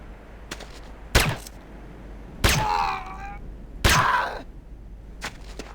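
Weapon fire at range targets in the Command & Conquer: Renegade tutorial, three loud sharp shots spaced about a second and a half apart, each followed by a ringing metallic whine, with fainter clicks between them.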